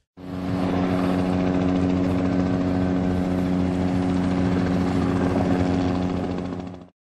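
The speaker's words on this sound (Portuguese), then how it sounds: "em função desses voos dos helicópteros por cima das casas das pessoas" Helicopters flying over houses in Rio de Janeiro's Jardim Botânico and Humaitá neighborhoods make a loud, steady rotor drone that fades up quickly, holds for several seconds and then cuts off.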